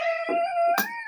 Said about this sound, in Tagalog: Yung aso namin, oh. Tuwang-tuwa pag kami naandito.